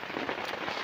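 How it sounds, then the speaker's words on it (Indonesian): Steady rain falling on a mountain at Gunung Gede Pangrango near Cibodas, a soft continuous hiss of drops with no pauses and no voices. "Hujan terus belum berhenti."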